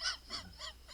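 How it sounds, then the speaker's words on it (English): Chickens under a porch on a winter morning, giving a series of four short honking, goose-like calls at a steady pace, moderately close with no talking. "God damn them chickens! Look at them goddamn things!"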